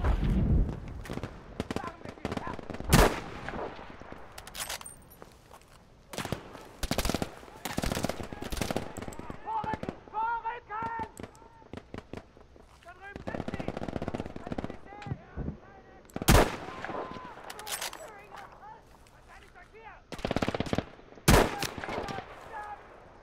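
Bursts of video game gunfire crack out in repeated volleys, loud and close, as players shoot at red barrels, with talking in between and over the shots.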